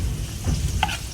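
A spoon stirs flour and milk into freshly cut corn in a bowl, giving a short, soft wet scraping and swishing sound, close and quiet.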